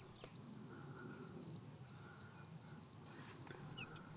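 Insects chirping in a wildflower meadow of wild carnations, knapweed and wild carrot, a steady high-pitched trilling chorus with no voices.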